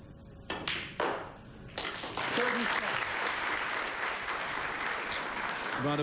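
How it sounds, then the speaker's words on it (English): Spectators at the 1995 Thailand Open snooker final break into applause, first a few scattered claps, then a full sustained round of clapping, while a commentator talks over it. "Round of applause, but"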